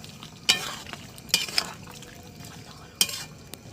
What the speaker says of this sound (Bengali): একটু নাড়িয়ে দেব আবার।